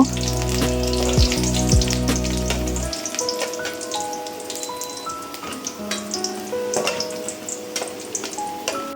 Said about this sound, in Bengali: প্রথমে হচ্ছে কিছু পেঁয়াজ বেরেস্তা করে রেখে দিব